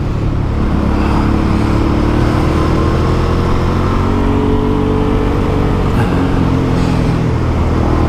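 A Suzuki V-Strom 650 motorcycle rides along a road, its engine a steady continuous drone with shifting low harmonics under constant wind and road rush, with no talk.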